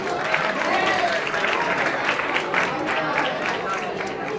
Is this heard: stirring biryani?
no